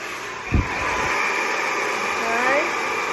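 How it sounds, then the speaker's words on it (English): Hair dryer on medium heat, full speed, blow-drying styling product into hair: a steady, close airy whoosh running throughout, with a brief bump of handling noise near the start. "I'm just gonna blow dry that product in."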